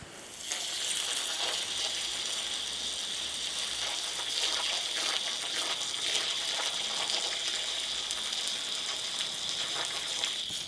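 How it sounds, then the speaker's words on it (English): Garden hose spray blasting water onto a Timex Weekender wristwatch, a steady close hiss of gushing water that holds evenly throughout with no talk. "I can blast it with a hose pipe"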